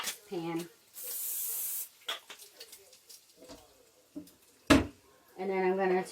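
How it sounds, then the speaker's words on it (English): Cooking spray misted from an aerosol can onto a pan for seared tomatoes, a steady hiss of about a second amid kitchen noises, between moments of a person speaking nearby. "I'm going to do a light spray of cooking spray on this pan."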